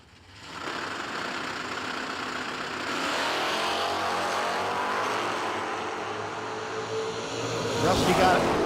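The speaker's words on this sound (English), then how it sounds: "Dillman going to be chasing after the big bad Mopar of Rusty Hill" A drag race run at a No Delay Nationals event, with a 1985 Camaro and a 1970 Mopar, gives a sustained loud engine roar that swells mid-run and rises again near the end, while a commentator speaks over it.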